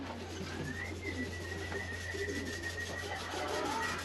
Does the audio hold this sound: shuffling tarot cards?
no